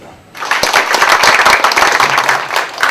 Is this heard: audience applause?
yes